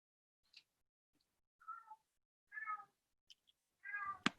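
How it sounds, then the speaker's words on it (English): A house cat meows several times at close range, with short spaced calls against near silence and a soft tap at the end. "I hear a kitty cat."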